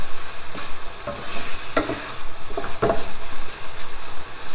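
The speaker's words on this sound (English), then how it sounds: "Make sure the garlic is nicely cooked." Garlic frying in a pan with a steady sizzle, stirred in several distinct scraping strokes spread through the stretch, close and fairly loud, with no talking.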